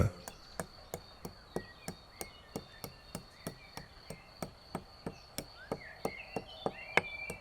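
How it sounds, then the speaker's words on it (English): A pestle pounds white pepper, cumin, lovage and pine nuts for a sauce in a mortar, striking in a steady, evenly spaced rhythm of about three sharp knocks per second throughout. "We grind white pepper, cumin, lovage and pine nuts."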